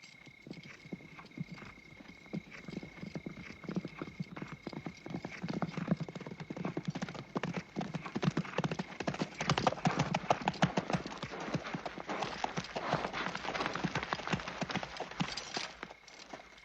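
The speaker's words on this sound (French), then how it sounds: "Des centaines de chevaux." Hundreds of horses from an arriving army clip-clop in a dense, continuous patter of hooves, with occasional neighs and whinnies rising through the steady, fairly distant drumming.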